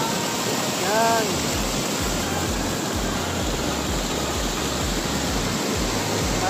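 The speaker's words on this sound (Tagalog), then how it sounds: "sarap pakinggan ng ano, lalo ng tubig dito guys." Water flowing steadily at Wadi Hanifah, a continuous broadband rush that fills the whole clip at an even level, with faint background hum and no talk.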